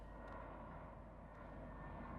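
A C-130 military transport aircraft flies over in Farming Simulator 15, giving a low, steady engine drone that holds at an even, fairly faint level throughout.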